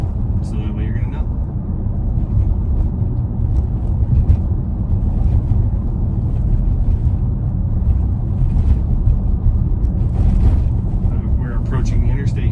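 Steady, loud wind buffeting and road rumble fill the cabin of a Tesla driving itself on Full Self-Driving 13.2.8 through high winds on a red flag warning day near Colorado Springs, a constant low roar with no letup.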